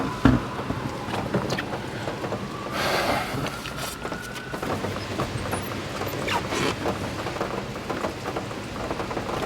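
Heavy rain pours steadily outside a Popeyes drive-thru in Cartersville, Georgia, a dense continuous wash of drops striking surfaces close by, with no talk over it.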